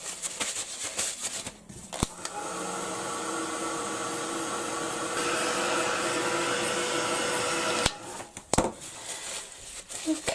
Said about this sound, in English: I'm going to give that a quick blast with the heat gun,